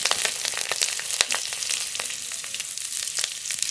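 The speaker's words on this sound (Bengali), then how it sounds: "আগের ঘন্টার জন্য ফোড়ন করে নেব কড়াইতে সর্ষের তেল" Whole radhuni seeds, whole garlic and green chillies sizzle in hot mustard oil in a kadai, a close, crackling spatter with many sharp pops over a bright hiss, without any voices.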